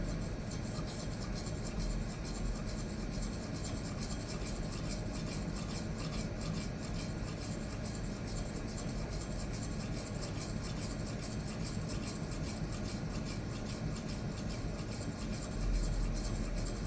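A knife blade rubbed steadily across a 6000 grit resin bonded diamond sharpening stone during polishing, giving a continuous soft rasping scrape that stays even and close for the whole stretch, with no talking.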